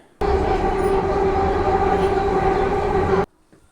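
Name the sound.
Delhi metro train ride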